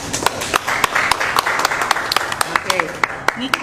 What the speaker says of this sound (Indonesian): Niko Irham, guys, tepuk tangan dong semuanya.